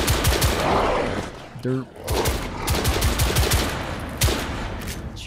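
Rapid gunfire in The Order: 1886 video game, with bursts of sharp, close shots in quick runs across the whole stretch, alongside game sounds and brief speech.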